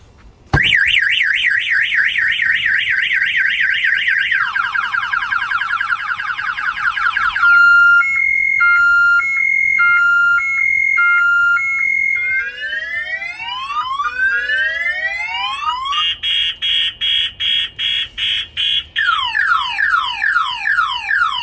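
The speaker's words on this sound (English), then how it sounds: "I'm going to go ahead and fire off the alarm" Loud motorcycle-style security alarm on a 2018 Polaris Slingshot, cycling through a series of electronic siren patterns: warbling whoops, rapid beeping pulses, rising chirps and two-tone wails, sounding close and continuous with no voices.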